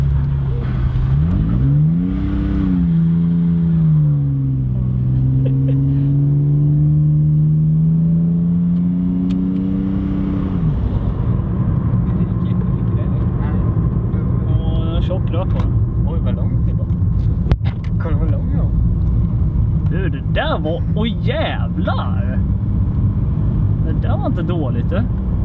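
Volvo 760 V6 doing a burnout: the engine revs up and down in loud rising and falling sweeps, then settles into a sustained high drone with tyres spinning and scrabbling, people talking over it.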